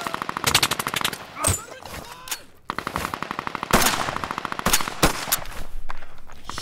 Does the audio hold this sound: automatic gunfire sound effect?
yes